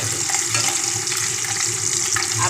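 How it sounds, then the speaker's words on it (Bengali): Eggs are browned in hot oil in a pan and turned over, giving a continuous close, crackling sizzle with faint stirring or scraping. "এইভাবে একটু লাল লাল করে ভাজা করে নেব ডিমগুলোকে"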